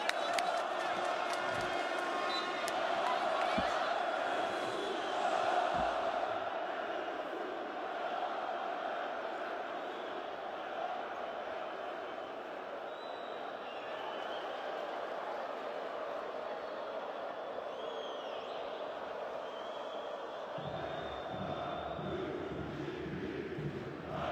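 A basketball arena crowd at the EuroCup Women 2017 final between Galatasaray and Reyer Venezia keeps up a steady roar of cheering and whooping, loud at first and then settling into a constant wash of noise, with some voices talking over it.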